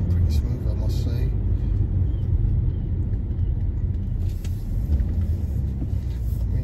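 A 2008 BMW 730d Sport with a 3.0-litre engine and automatic gearbox drives along steadily, its low road rumble and engine hum continuous and fairly loud throughout.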